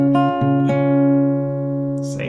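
Closing section of a melody played on guitar: a few plucked notes ringing out and sustaining, with a faint rustle at the end.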